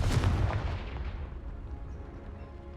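A heavy booming blast from a Confringo fire spell in the Hogwarts Legacy video game, a single loud explosive hit up front that rumbles and fades out over a few seconds.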